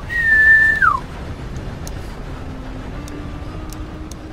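A steam train whistle in the Red Dead Redemption 2 game gives one loud, sustained tone that bends downward as it ends. Quieter rumbling train noise follows with a faint low drone.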